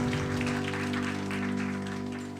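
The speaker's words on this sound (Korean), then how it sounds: "우리 하나님께 영광의 박수 올려드리겠습니다." Congregation clapping at a Korean young adults' Friday night church worship service, a steady wash of applause with sustained music or organ tones underneath, moderately loud throughout.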